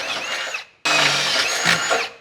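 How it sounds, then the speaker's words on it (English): A power drill drilling holes in metal whines in two bursts, a short run, a brief stop, then a longer high-pitched grinding spin, close and loud. "So I'm going to drill these out"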